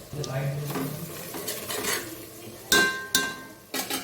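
Mutton tipped into fried spice paste in a pot for a Bengali curry brings soft sizzling with scraping, stirring and a few sharp metallic clinks of utensil on pot, close and fairly quiet.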